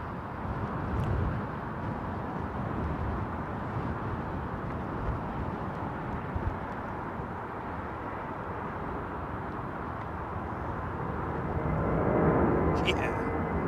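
A Boeing Dreamliner airliner departs London Heathrow, its broad, steady jet roar filling the air throughout and swelling slightly near the end, with people chatting nearby.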